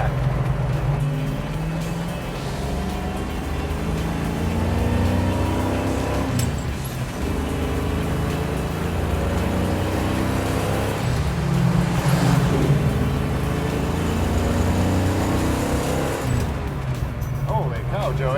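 An AMC muscle drag car engine roars steadily while driving, a loud, rough, continuous rumble with gear changes, under people talking throughout.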